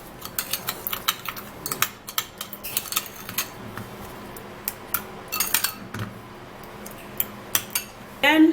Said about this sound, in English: I'm going to be taking 1 tablespoon of the sugar into this aloe vera, and then we would have to give it a mix.